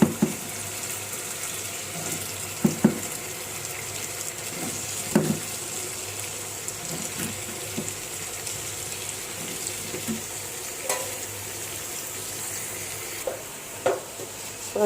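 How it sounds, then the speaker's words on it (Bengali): Potatoes are stirred into a spice paste in a pan for sautéing, bringing a low steady sizzle with scattered scraping and clinking of the spoon, close and fairly quiet with no voice over it. "এখন আমি এর মধ্যে আলু দিয়ে দিব আলু দিয়ে কিছুক্ষণ কষাইতে থাকবো"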